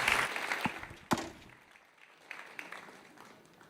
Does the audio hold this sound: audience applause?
yes